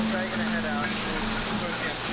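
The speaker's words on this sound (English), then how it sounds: "the really awesome waterfall in Pandora, the world of Avatar" A waterfall in Pandora, the Avatar-themed land at Disney's Animal Kingdom, gives a steady broadband rush of falling water with a faint sustained hum and possible soft voices in the background.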